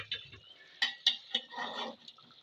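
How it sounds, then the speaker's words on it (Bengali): A metal lid lifted off a pot of beef cooking in red gravy, giving a few sharp clinks and a brief rattle, close and fairly quiet, followed by a soft bubbling hiss. "আমি একবার ঢাকনাটা খুলে একবার দেখে নেব।"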